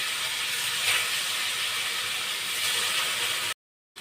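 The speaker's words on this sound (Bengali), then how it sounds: "এখন বাকি মাছগুলো আমি একইভাবে একটু প্যাকেট করে ভেজে নেব" Koi fish fry in hot mustard oil with a loud, steady, close hiss that cuts off abruptly into silence just before the end.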